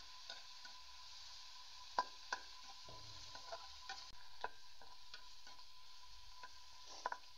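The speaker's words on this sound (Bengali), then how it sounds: "এখন আমি চিংড়ি মাছটা ভেজে নিচ্ছি" Prawns frying in a kadai pan, a quiet, soft sizzle with scattered light ticks and scrapes of stirring spread across the clip.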